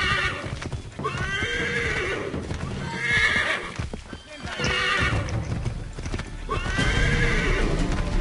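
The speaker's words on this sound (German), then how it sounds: "Wir reiten jetzt auch mal ein bisschen schneller hier." A horse galloping through Assassin's Creed 3, heard as rhythmic clip-clop hoofbeats with repeated neighs and whinnies rising over a busy rumbling game soundscape, with some faint talk.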